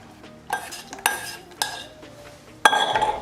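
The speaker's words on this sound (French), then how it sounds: "verser ma gélatine dedans" Melted gelatin poured into hot sugar syrup, just taken off the heat at 120 degrees, in a pot for homemade marshmallows: a few separate clinks and clatters of utensils against the pot, with a louder, sustained clatter near the end.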